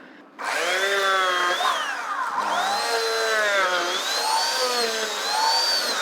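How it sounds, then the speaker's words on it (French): A kitchen blender purées fresh strawberries and basil into a coulis without added liquid, a loud, close motor whir that kicks in sharply and holds steady, its pitch wavering as the fruit breaks down, with no voices. "On va juste mixer l'ensemble."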